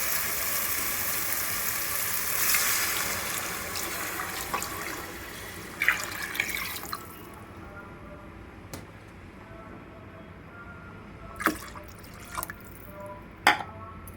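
Water is poured into a pot of rice for moong dal khichdi, giving a rushing, filling splash at first that thins out. Scattered clinks and knocks follow, and there is no speech.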